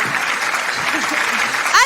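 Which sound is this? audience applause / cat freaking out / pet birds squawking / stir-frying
audience applause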